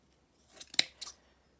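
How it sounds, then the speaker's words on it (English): A few quick, crisp snips of sharp fabric scissors cutting through several layers of lace fabric, close and fairly quiet, in a short burst lasting about a second. "So I used my fabric scissors."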